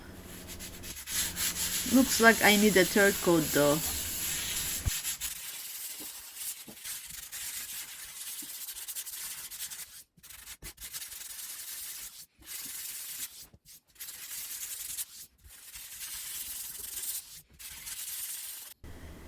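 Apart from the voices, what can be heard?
sanding block on drywall patch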